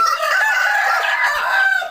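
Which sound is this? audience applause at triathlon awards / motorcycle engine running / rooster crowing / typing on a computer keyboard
rooster crowing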